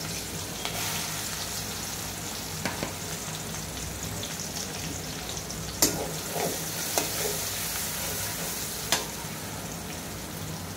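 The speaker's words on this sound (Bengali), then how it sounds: "পেঁয়াজ তেলে দেব।" Onions fry in hot oil for a fish curry of pangas with taro, a steady broadband sizzle with a few sharp stirring clicks and pops, close and continuous throughout with no talking.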